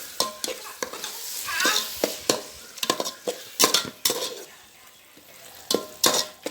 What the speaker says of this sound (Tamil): அதுக்கப்புறம் ஒரு 1/2 கப் தயிர் வச்சு எல்லாத்தையும் நல்லா மிக்ஸ் பண்ணணும்.